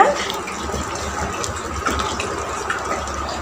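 Water poured into a pot of Tamil-style pepper chicken gravy, a steady broadband gushing pour running unbroken for a few seconds at moderate loudness, with no talk over it.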